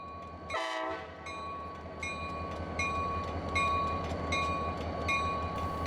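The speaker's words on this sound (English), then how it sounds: "The train has just arrived and the switch is lined for it to head into the ballast loading area." A train pulls into a ballast loading area, sounding a loud horn blast early on. Steady rolling rumble and periodic tonal squeals follow, with no talking.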